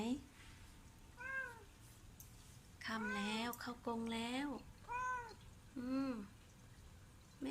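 A pet cat meows repeatedly indoors, several distinct rising-and-falling cries spaced a second or so apart, close and clear over a soft background hiss, with a person's voice faintly present.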